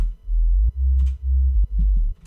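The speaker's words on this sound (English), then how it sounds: "So this is obviously the sub bass." Synthesized sub bass from a future house production, playing four sustained low notes in a steady rhythm with brief gaps between them, loud and clean with only faint upper texture.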